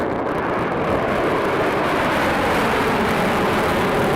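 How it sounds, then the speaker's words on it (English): An Intel MacBook Pro cooling fan roars at full speed, a loud, close, unbroken jet-like whoosh holding steady throughout with no voices. "maybe I kinda like that my computer sounds like an F-22 Raptor"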